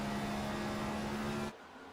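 A race car engine drones from an onboard camera during an SSRL Masters Series race, a loud steady tone at high revs that cuts off abruptly after about a second and a half.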